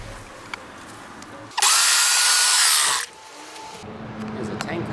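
A Wagner paint sprayer switched on for outdoor spray painting: a loud, steady motorized hiss bursts in for about a second and a half, then cuts off, leaving quiet background noise before and after.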